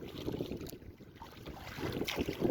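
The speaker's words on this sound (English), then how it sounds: "dealing with at least 20 to 25 kilometer surface wind in the gusts" Steady, roaring wind gusting over a lake buffets the microphone over churning water and a moving canoe, swelling in gusts with no voices.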